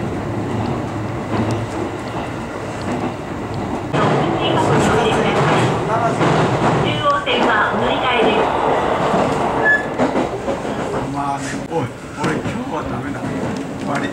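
A JR Iida Line train runs along the track with a loud, steady rumble of wheels and carriage noise close by, changing in tone partway through as a voice speaks over it.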